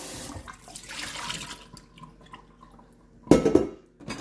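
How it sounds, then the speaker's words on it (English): Water filter parts for a Multipure Aquaversa filter, including the rubber gasket, being rinsed under a running kitchen tap, with a steady splashing stream and a sudden louder gush of water near the end. "Rinse that out really well."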